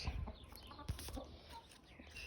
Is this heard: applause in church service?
no